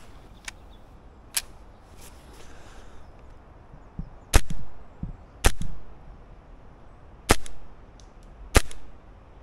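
A Novritsch SSQ22 airsoft pistol fires shots through a chronograph, six sharp separate cracks spread unevenly, close and loud against a quiet background.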